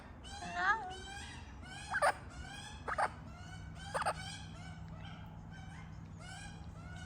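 A bird in a park gives several short, bright calls at irregular intervals, fairly close, while people speak softly nearby.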